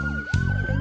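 Emergency vehicle siren wailing with a rising and falling tone over a low engine rumble, loud and close, in a short burst.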